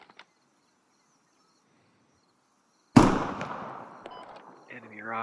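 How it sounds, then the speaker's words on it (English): A single sharp, loud gunshot rings out in the video game Squad as a player fires at a rock in an open field, followed by a decaying echo and faint clatter after a quiet stretch. "I can shoot from here. shooting at a rock out in the field."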